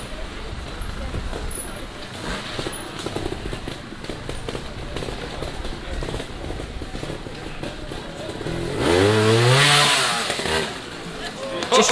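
A trials motorcycle engine burbles and crackles over roots and rock steps at a Suffolk championship trials park, then swells as the rider rides up a step on the overrun, heard under running commentary.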